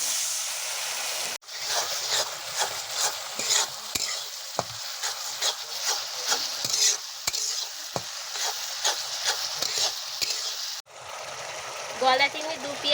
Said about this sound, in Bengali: পেঁয়াজটা জল দিয়ে কষিয়ে নিচ্ছি